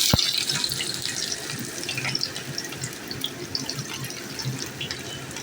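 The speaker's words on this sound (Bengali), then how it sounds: "তেল গরম হয়ে গেছে, আমি পেঁয়াজটা দিই।" Onion dropped into hot oil for a Bengali mutton fry crackles into a steady, close sizzle with a sharp pop at the start, continuing evenly throughout.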